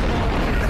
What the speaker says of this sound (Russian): В течение минуты я взрываю мощную бомбу